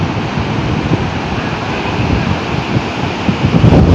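Sea surf rolls onto an Andaman beach in the early evening, a constant broadband wash of breaking waves mixed with wind buffeting the microphone, loud and close, with no voices.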